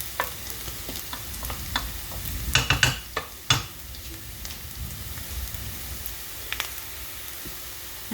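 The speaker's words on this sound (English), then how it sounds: "you can hear the mustard seeds starting to sputter" Mustard seeds sputter and pop in hot oil in a pan alongside browning onions, with scattered sharp crackles over a soft continuous sizzle, loudest in a brief cluster near the middle.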